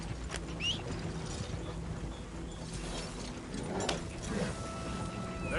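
Horse hooves clop in a steady trotting rhythm in a cowboy video game, mixed with rattling, ratchet-like mechanical clicks and creaks, moderately loud and close, with no talking over them.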